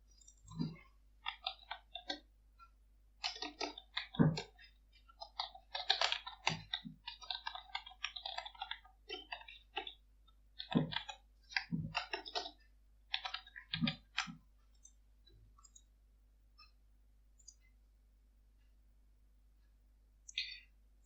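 Sharp clicking and tapping from a mouse and computer keyboard while working in the AWS console, arriving in irregular bursts and clusters with quieter gaps between them, close and fairly crisp, with no voices.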